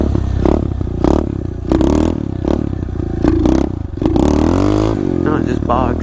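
An SSR 125 pit bike engine bogs while riding uphill in a backyard, with a rough, uneven mid-pitched drone that surges and sags under a person talking.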